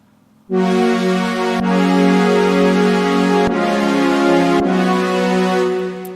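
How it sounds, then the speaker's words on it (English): A bright, buzzy synth pad chord built from two stacked saw waves sustains loudly, with a few clicky chord changes along the way; no voices. "So the main pad sound is built with two saw waves."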